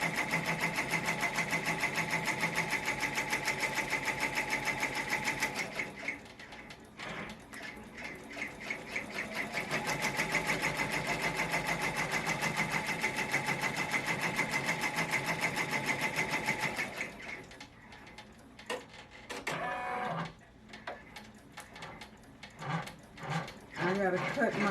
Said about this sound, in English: So the machine has started to place down